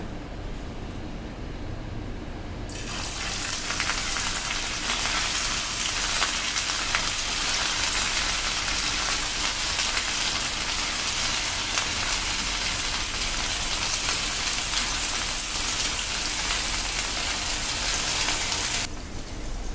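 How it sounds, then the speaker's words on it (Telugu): Marinated chicken pakoda dropped into hot oil, a dense loud crackling sizzle that starts abruptly after a quiet opening and holds steady until it cuts off near the end. "సో ఇప్పుడు దీన్ని మంచిగా కాగిన నూనెలో వేసుకుందాం."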